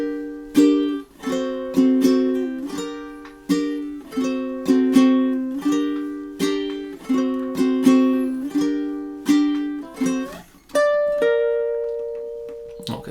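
A ukulele plays the intro to a song, a short plucked melodic phrase, notes struck in a steady lilting rhythm and repeated, ending on a held final note; close and clear, no voices.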